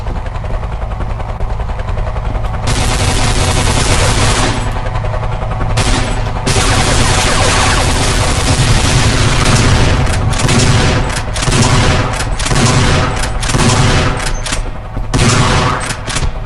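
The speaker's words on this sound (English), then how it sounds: "Get these guys walking around so the helicopter will start shooting them." A loud, continuous helicopter rotor drone is punctuated by repeated bursts of rapid gunfire, intense and sustained throughout, with no voices, from the video game Heart of Evil.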